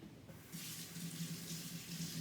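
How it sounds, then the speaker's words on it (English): A kitchen tap runs into a sink as hands are washed during banana bread baking, a soft steady gush that starts after a brief pause and continues evenly. "Wait 1 second, I need to wash my hands."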